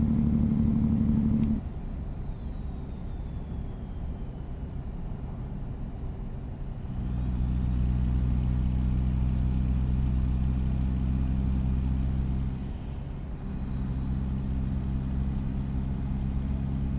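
Heavy truck engine in American Truck Simulator, droning steadily at close range with rising and falling revs and gear changes, alongside a high whine that climbs and falls; a brief hiss of air releases near the start.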